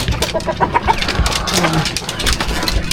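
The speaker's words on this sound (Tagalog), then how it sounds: "marami mga manok sila dito" Chickens clucking and calling close by at a farmyard beside Laguna lake, a run of short repeated clucks over busy rustling background, with a brief low crowing note in the middle.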